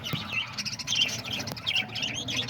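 Parakeets, lovebirds, cockatiels and diamond doves in an aviary keep up a steady mix of close, busy chirps and tweets, with a fan humming underneath.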